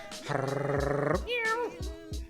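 A cat meows loudly and close by in a long, drawn-out wavering cry, then gives a bending yowl, while low thumps and a voice are heard underneath.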